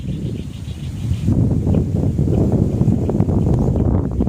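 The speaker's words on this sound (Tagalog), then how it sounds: "Kusog ang hangin sa akong inapod." Strong wind buffets the microphone on an open fishing spot, a steady, loud, rumbling roar that swells and gusts throughout without letting up.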